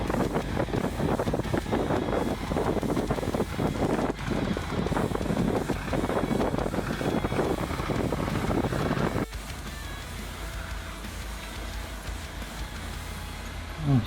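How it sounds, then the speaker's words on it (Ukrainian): A mini combine harvester attachment driven by a walk-behind tractor working outdoors, a loud rough engine drone with heavy wind buffeting that cuts off abruptly about two-thirds through, leaving quieter wind noise. "теж бачимо такий міні-комбайн. Ось так працює."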